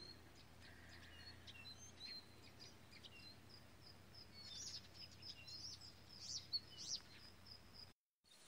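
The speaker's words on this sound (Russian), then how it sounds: "Утреннее пение птиц сегодня." Morning birdsong in a rural village garden plot beside an old house: several small birds chirp and call at a distance over a low steady background hum, with brighter, closer tweets toward the end.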